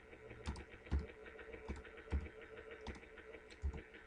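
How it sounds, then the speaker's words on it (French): Steady typing on a computer keyboard as someone writes C code, with distinct clacking keystrokes arriving in irregular bursts under a faint background hum and no speech. "J'ai du mal avec ce clavier."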